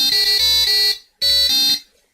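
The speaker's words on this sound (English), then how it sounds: "Okay, and then it beeps." Two loud electronic beeps from a solder reflow controller at the end of a reflow cycle, each lasting close to a second with a short gap between, sounding alone without any voices.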